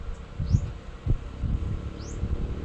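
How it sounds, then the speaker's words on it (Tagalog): Short high chirping bird calls sound twice at a distance over low thumping noise and background rumble. "naminaw ram ni siya sa mga huni ng ibon"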